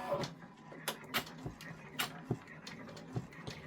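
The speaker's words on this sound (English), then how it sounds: "the next step is it's going to do the placement stitch for the orange" An embroidery machine stitches the placement outline for an OESD freestanding pumpkin quilt block, producing faint, quick rhythmic mechanical ticks and thumps in a steady pattern, close by and without speech.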